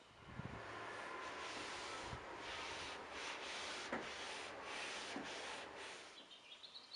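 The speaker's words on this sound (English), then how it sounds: "So I've finished sanding the surface of my desk" Steady abrasive sanding of the wooden surface of an old dresser, a continuous rough rubbing with rhythmic strokes and a few brief knocks, fairly close and heard on its own without talk.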